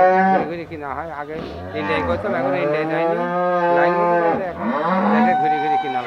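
Holstein Friesian dairy cows at a dealer's cattle collection low repeatedly, loud and close, with long drawn-out calls overlapping one another almost without pause.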